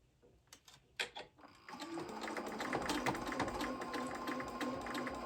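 A sewing machine stitches a puppy dog tote bag. After a few short hesitant bursts it runs into a steady, continuous whir of rapid stitching that holds at a fairly loud level to the end.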